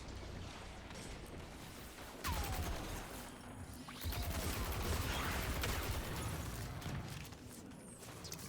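Gunfire in a video game, scattered heavy shots and booming impacts under a noisy battle din, with a sharp sniper crack standing out amid the chaos.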